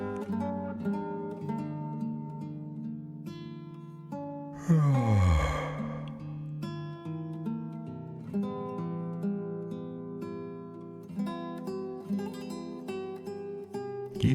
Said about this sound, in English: Each one brings you closer and closer to a real and natural yawn.